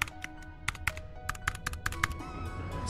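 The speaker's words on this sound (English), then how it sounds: "open the indicator search tab and type in MA Sabres" Quick keystrokes on a computer keyboard as a search term is entered, a close, crisp burst of about a dozen uneven taps over a faint background hum.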